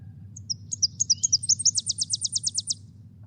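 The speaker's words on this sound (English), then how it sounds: "So it's the Tennessee warbler." A Tennessee warbler sings one close, clear three-part song: thin chips start slowly, speed up, then finish in a fast run of bright notes, over a low steady background hum.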